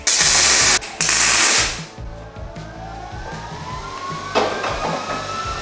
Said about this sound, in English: I'm only putting two tacks on it right now, and that way it's easier to cut off if we need to.